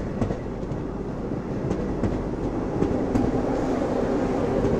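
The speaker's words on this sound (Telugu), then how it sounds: "విశాఖపట్నం సికింద్రాబాద్ వందే భారత్ కానీ మెల్లగా వెళ్తుంది" Visakhapatnam–Secunderabad Vande Bharat train rolling slowly past, a steady close rumble of wheels and carriages with faint clickety-clack throughout.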